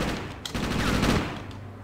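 A loud, rapid burst of gunfire in the game Grand Theft Auto: Chinatown Wars on Nintendo DS rattles continuously for about two seconds, close and dense.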